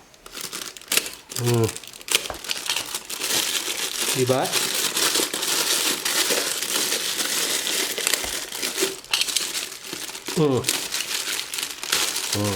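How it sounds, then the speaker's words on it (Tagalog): Tape being peeled and stripped off the cardboard box of a GORDAK 968D hot air rework soldering station, with close crinkling and tearing running through the clip while someone speaks briefly at a few points. "Tanggalin natin yung tape na yan."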